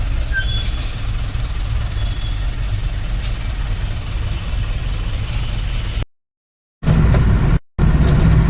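Loud, steady road traffic with heavy trucks rumbling and a hiss of air brakes, continuous noise broken by two brief dropouts near the end, at a Green Line crossroads in Gujarat.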